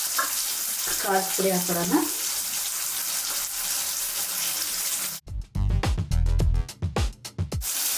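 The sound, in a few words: spices frying in a pan for egg fried rice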